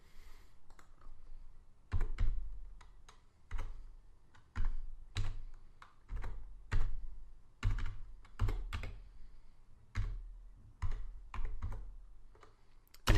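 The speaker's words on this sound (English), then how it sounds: "while you're typing in your password, you will not actually see anything happening here" Someone typing a password on a computer keyboard, giving close, crisp key clicks in short uneven bursts separated by pauses.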